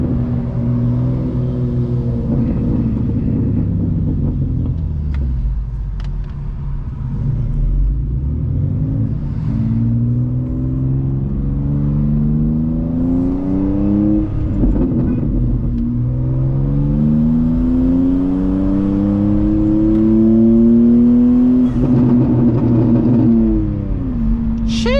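A BMW M2 or Porsche GT3 moving through heavy traffic, its engine loud and close, revving repeatedly with rising and falling pitch sweeps over a low rumble.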